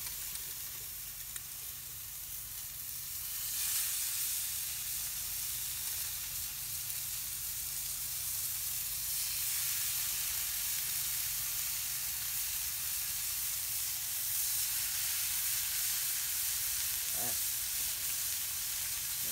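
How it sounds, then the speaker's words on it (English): Steady, close sizzling and crackling of hamburgers frying on a hot charcoal grill, with soft hissing throughout and no talking. "listen to that sizzle"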